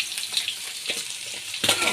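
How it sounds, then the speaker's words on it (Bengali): Tangra catfish coated in salt and turmeric fry in hot oil with a continuous bright sizzle and crackle, close by. A sharper spatter flares up near the end. "তেল গরম করে আমি লবণ হলুদ মাখিয়ে আগে মাছগুলো ভেজে নিই"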